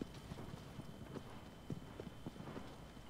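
Horse hooves clip-clop at a steady walking pace in Shadow of the Colossus, faint and rhythmic over a soft ambient wash.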